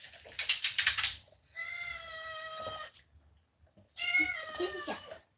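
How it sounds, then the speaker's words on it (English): A cat meows twice nearby, each call long and drawn out with a pause between them, loud and clear over a quiet room, with a short burst of other noise before the first meow. "Kitty cat."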